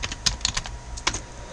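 Keys on a computer keyboard clatter in quick irregular taps during a Linux terminal session, close and crisp, with short clusters and small pauses and no voices.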